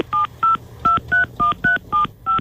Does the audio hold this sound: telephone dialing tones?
yes